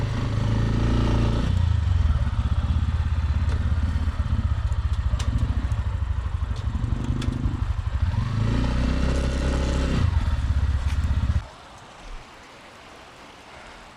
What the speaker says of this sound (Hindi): गाड़ी गिर गई भाई मेरी